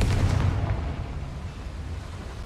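Confringo spell explosion in the video game Hogwarts Legacy, a loud booming burst with a rumbling low-end tail that fades over a couple of seconds.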